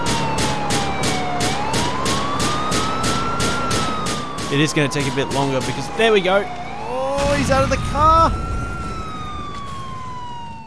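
Video-game police car siren wails and sweeps continuously, close and loud, while someone commentates over it and traffic noise and impacts mix in.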